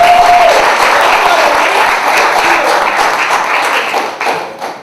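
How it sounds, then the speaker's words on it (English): Loud, sustained audience applause fills a theater at a live monologue slam, a thick, even roar of many hands that tapers slightly near the end. "Let's give a round of applause to this theater"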